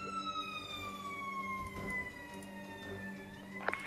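An ambulance siren in the video game Emergency wails with slowly falling tones, steady and fairly faint, with a few short clicks and thumps near the end.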